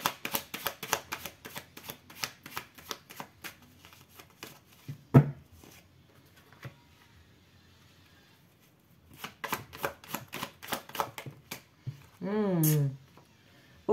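Tarot-style reading cards are shuffled in quick riffling bursts of rapid clicks, with a pause between two rounds of shuffling, and a brief voice sound follows at the end.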